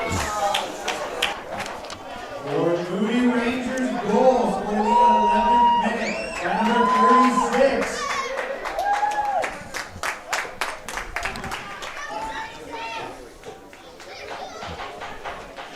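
Spectators cheer and whoop after a Port Moody goal at a men's masters soccer cup final, with loud sustained shouting and yells from the crowd rising mid-way, then scattered applause and claps as a commentator talks over it.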